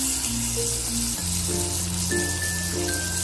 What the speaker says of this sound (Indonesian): Saya kasih margarin secukupnya. Ini saya cairkan. Sekarang akan saya panggang ini ya,